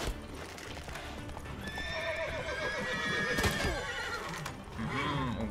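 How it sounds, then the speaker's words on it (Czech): In the Witcher 3 video game, horses neigh loudly with drawn-out whinnies over continuous galloping hoofbeats, with no talk. "Pryč od těch zběsilých koní."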